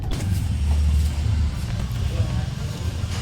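A car engine rumbles low and close as the car is driven slowly into a house, with some shifting noise and no speech.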